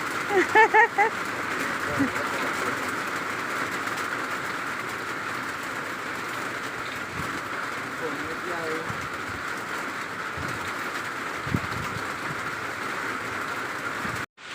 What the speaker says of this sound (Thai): ฝนตกจ้าฝนตก